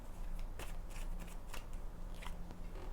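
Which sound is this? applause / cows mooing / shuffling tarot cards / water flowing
shuffling tarot cards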